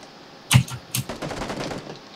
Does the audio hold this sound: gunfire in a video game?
yes